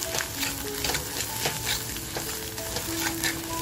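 Ground masala paste for a mutton curry sizzles and fries in a pan while being stirred, with scraping strokes over a steady crackle and no one speaking.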